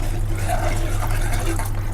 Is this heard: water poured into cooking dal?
yes